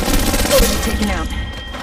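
Rapid bursts of gunfire in the Apex Legends Mobile battle royale game, loud and dense through the short moment, with speech-like game chatter blended underneath.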